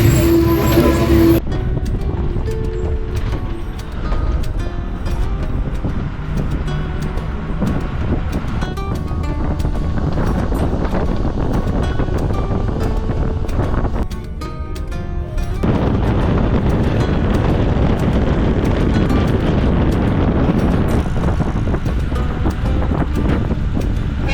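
A crowded bus travels toward Srirangapatna, with a constant rumble of engine and road noise, rushing wind and rattles from the vehicle that shift in intensity partway through the ride.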